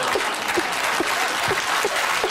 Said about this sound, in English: That sounded like very male applause to me.